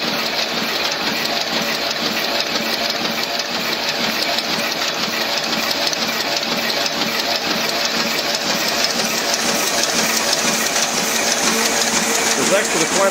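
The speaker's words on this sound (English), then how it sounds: "This press that I'm using today is a Ryobi 3200" A Ryobi 3200 offset printing press runs gospel tracts with a dense, steady mechanical clatter and rhythmic churning, loud and close, continuing without a break.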